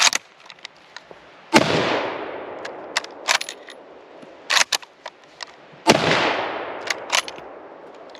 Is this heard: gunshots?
yes